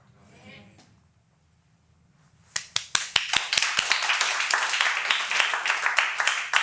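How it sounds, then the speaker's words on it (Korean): A voice speaks briefly, then after a short quiet a church congregation breaks into hand clapping, sharp individual claps quickly thickening into loud, rhythmic group clapping. "끝장났는데 박수를 치고 있다니"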